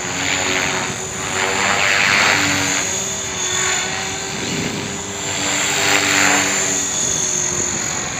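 A cheap Hobbyking RC helicopter running, its motor and rotor whining steadily with a buzzing drone that swells and fades in gentle pulses, heard up close and alone.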